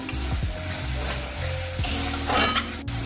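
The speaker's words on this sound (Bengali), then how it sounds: "এবার হলুদ গুঁড়ো দিয়ে, এবার আমি এটা ভালোভাবে কষিয়ে নেব" Ginger-garlic paste sautéing in a pan with water and turmeric powder, a steady close sizzle with scraping stirs of a spoon against the pan, a couple of sharper clinks partway through, no voices.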